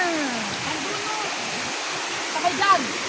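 Tangadan Falls waterfall pours in a steady, broad rush of water, with brief voices and a few splashy bursts near the end.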